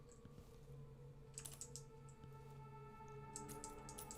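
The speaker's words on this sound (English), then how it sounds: "I like the typewriter a lot. It's fun to click." Typewriter keys in the stealth video game Dishonored 2 clicked in a few quick clusters over a faint steady background hum, close and crisp but quiet, with no talking.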